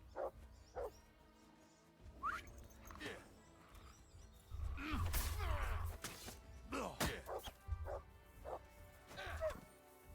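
Dog barks in a video game: several sharp barks and yips spread across the scene, mixed with thumps and other game effects while someone talks and exclaims.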